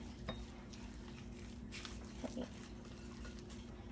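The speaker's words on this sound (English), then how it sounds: "I like a spatula for this job. It really gets in there good, and you can get around the bowl" A spatula scrapes around a mixing bowl of stuffing made with prosciutto, basil pesto and garlic for zucchini flowers, giving soft scraping and a few light clinks close by over a steady background hum.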